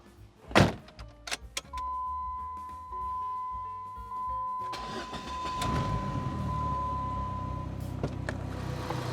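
A car engine cranks over and catches with help from a Wolfbox Megavolt 24 jump starter, after a few sharp clicks and thumps, then settles into a steady, close idle that continues to the end.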